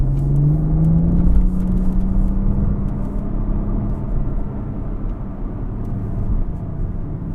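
BMW M2 car accelerating on the road, a steady low engine rumble with a rising tone and some wind and road noise, loud and close, no talking.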